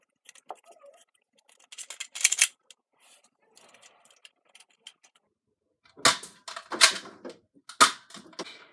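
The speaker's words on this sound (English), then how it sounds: "Now firing with standard blue." A Nerf Accustrike Quadrant blaster firing standard blue foam darts gives sharp, short pops in a sparse, irregular pattern, with a few quiet clicks of priming between shots, fairly close with no talking.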